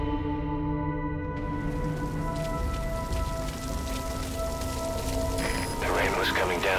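Heavy rain pouring down in a Metal Gear Solid V video game cutscene, a steady hiss behind sustained musical tones and low rumble, swelling slightly toward the end.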